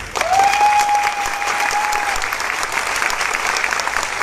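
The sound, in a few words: audience applause welcoming new ambassador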